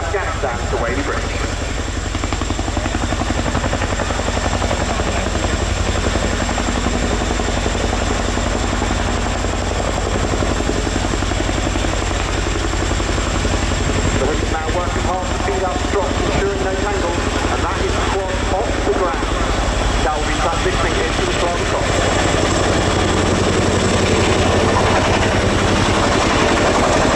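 A Royal Air Force Chinook HC6 twin-rotor helicopter flies at an air tattoo, giving a steady, loud drone of engines and rotors that lasts throughout, with a voice talking over it.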